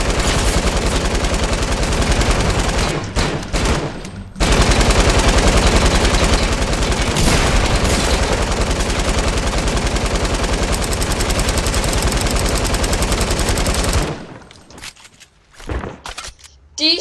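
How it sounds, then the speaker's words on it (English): Sustained bursts of rapid automatic gunfire in Fortnite, loud and close, with brief pauses before the firing trails off into scattered shots near the end. "I was literally firing rapidly."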